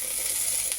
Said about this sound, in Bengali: এখন ফোড়নে দেব সাদা জিরে, শুকনো লঙ্কা, কিশমিশ, কাজু বাদাম,